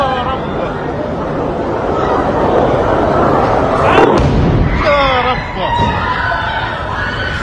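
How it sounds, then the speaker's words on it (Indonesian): Loud, booming explosions over Tel Aviv during a missile attack, heavy rumbling thuds with crowd noise and excited voices talking and shouting around them. "Sejumlah ledakan keras dilaporkan mengguncang kota Tel Aviv"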